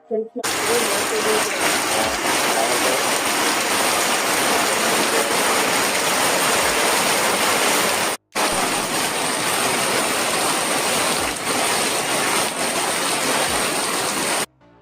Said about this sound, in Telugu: మారేడుమిల్లి వచ్చిన తర్వాత వర్షం అయితే చాలా గా వచ్చేస్తుంది మీరు చూడొచ్చు